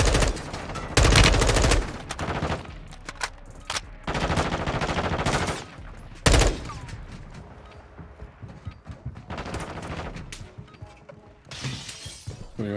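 Gunfire in Call of Duty Warzone 2: several loud bursts and sharp shots cut in between quieter stretches, with clattering mechanical movement and scattered distant impacts between them.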